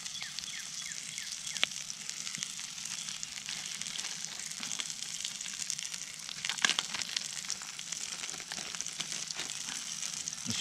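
Oil sizzles in a frying pan at a shore breakfast during a catfishing outing, a steady broadband hiss with a few sharp crackles and pops, fairly quiet and continuous, with no talking.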